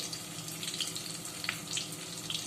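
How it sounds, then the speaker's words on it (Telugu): Bitter gourd pieces frying in hot oil give off a steady, dense sizzle with soft crackles and pops, close and continuous, no voices. "ఈ కాకరకాయ ముక్కలు మనకి గోల్డెన్ బ్రౌన్ వచ్చేంతవరకు ఈ ఆయిల్లో మనం ఫ్రై చేసుకోవాలి"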